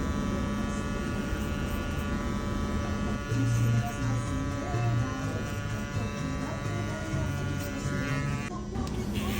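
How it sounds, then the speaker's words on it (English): Electric hair trimmer buzzing continuously up close during a burst fade haircut, its harmonic hum broken by brief shifts as it moves through hair, with a voice speaking faintly underneath. "I'm gonna use my little comb and my trimmer"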